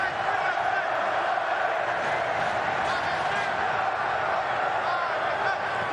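A roaring stadium crowd at a 2005 NFL football game between the Dallas Cowboys and the New York Giants, a constant loud wash of crowd noise throughout with commentary running over it.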